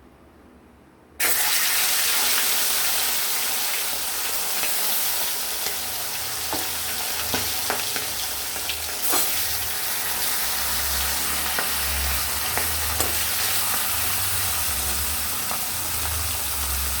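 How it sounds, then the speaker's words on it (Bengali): Fish heads dropped into hot oil in a wok sizzle sharply after a brief quiet moment, then fry with a loud, steady crackle and occasional spatters and pops. "এবার আমরা মাছের মাথাগুলো ছেড়ে দেব"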